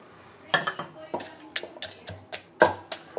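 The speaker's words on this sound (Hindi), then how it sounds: "मसाले हमारे ड्राई रोस्ट हो गए और अब मैं इसमें डालूँगी और इसे कूट लूँगी" Dry-roasted whole spices being coarsely pounded by hand, a series of sharp, close knocks and clinks arriving in an irregular rhythm, with brief pauses between strikes.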